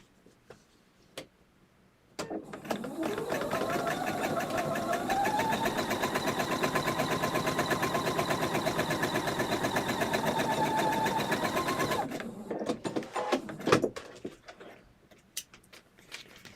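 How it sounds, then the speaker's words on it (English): A sewing machine runs steadily for about ten seconds while stitching two seams, a close, rapid ticking hum with a slight rise in pitch as it speeds up, preceded and followed by light handling clicks and rustles. "I'm back after stitching those two seams."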